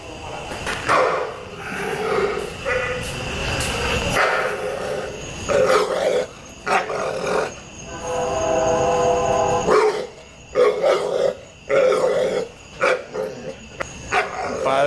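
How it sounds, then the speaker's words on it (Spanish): A dog barks repeatedly in bursts over about fifteen seconds, loud and close, with people talking in Spanish between and around the barks. "ladra y ladra y ladra"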